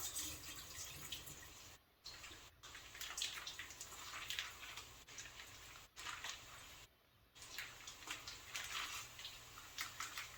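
Water is wrung out of steamed zucchini by hand over a sink, giving a steady trickle and patter of draining water with brief pauses as the squeezing stops and restarts.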